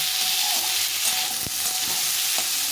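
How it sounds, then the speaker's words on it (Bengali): Pumpkin pieces for Bengali shukto frying in a pan over turned-up gas, a loud, constant hissing sizzle with a couple of faint clicks and scrapes, close and without voices. "এখন একটু গ্যাসটা বাড়িয়ে দিতে হবে কুমড়োটাকে ভালো করে ভেজে নিতে হবে"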